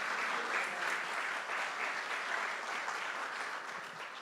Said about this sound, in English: So let's give them a round of applause, our parade participants.